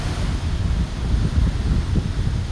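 Steady wind gusts rumble and buffet the microphone on a beach in Trinidad, with a faint wash of surf underneath, continuous and close without any talking.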